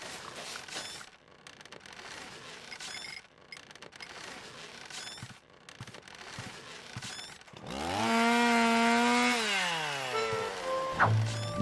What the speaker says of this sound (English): High-proof alcohol was an excellent fuel substitute for the gasoline chainsaw.